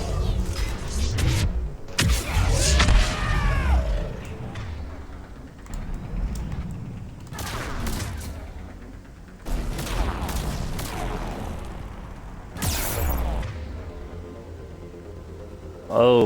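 Gunfire in the video game Mass Effect 3 comes as repeated loud bursts and crashing impacts over dense combat noise and music, with people talking through parts of it.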